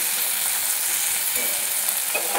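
Okra (bhindi) frying in hot oil in a pan with salt added, giving a steady, close, dense sizzle that holds even throughout with no voices.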